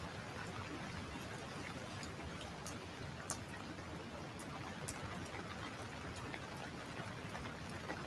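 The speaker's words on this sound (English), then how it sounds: "that rain is really coming down" Heavy rain falls outside, a faint, steady hiss of drops with occasional sharp ticks on a surface, continuous and even throughout with no voices.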